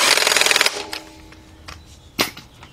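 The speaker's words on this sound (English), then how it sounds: "22 millimeter socket, half inch drive, and we'll go tighten that up." Bolt with washer tightened using a 22 mm socket on a half-inch drive during engine work on a 2006 Kia Sportage 2.7: a short, loud rattling burst, then a few quiet clanks and one sharper knock.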